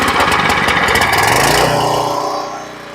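A 5 horsepower Vanguard small engine, the kind fitted to a log-handling machine, runs loud and close with a steady mid-pitched drone that eases down in the last moment, with no voices over it.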